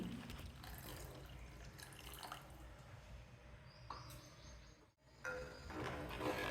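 Water trickling and splashing into a pot of curry, a steady low pour with soft drips, fairly quiet and continuous with a brief pause near the end.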